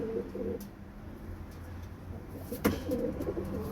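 Lombardy pigeons coo in low, throaty bursts near the start and again toward the end, with a sharp click midway, amid steady loft background noise and no speech.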